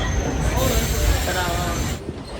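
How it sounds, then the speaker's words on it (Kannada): Inside a stationary train bound for Bangalore, shortly before departure: a steady, loud, broadband rumble and hum fills the whole stretch without pause, easing slightly at the close. "train will start in some time"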